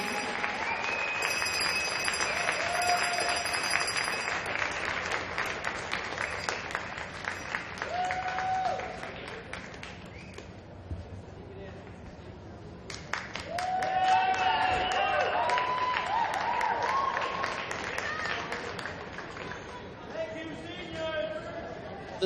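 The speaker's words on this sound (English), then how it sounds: "let's have a nice round of applause for all of the graduating seniors and their families" Crowd in a hockey arena applauding graduating seniors and their families at a women's college hockey game, sustained clapping and cheering with crowd chatter, a brief lull midway, then renewed applause and whistles.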